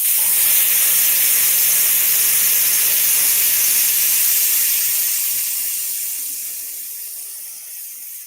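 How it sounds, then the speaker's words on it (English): An airbrush sprays gloss varnish onto a drawn card, a steady, loud, close hiss that carries on without a break and fades slightly toward the end, with no voices. "So the noise from the airbrush"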